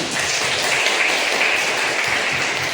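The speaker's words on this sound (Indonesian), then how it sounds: "sama-sama kasih tepuk tangan untuk kita semua" Participants in a school counseling training session applaud together, a dense, even wash of many hands clapping at once, steady and moderately loud throughout with no clear talk over it.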